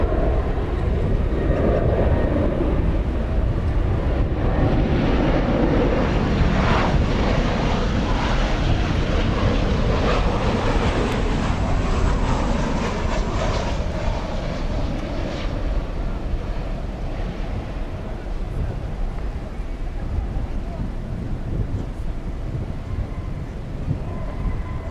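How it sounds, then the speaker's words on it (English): A Boeing 737-800 jet roars down the runway at DFW Airport at night, a loud, sustained broadband engine rumble that holds steady before easing slightly toward the end, with no talk over it. "And this is a 737-800."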